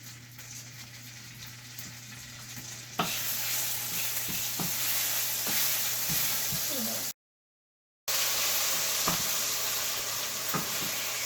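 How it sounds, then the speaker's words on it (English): Cilantro frying in a frying pan, a steady broadband sizzle with faint stirring taps that jumps louder partway through, breaks off briefly, then resumes close and continuous. "on the frying pan, I'm going to put some of my cilantro."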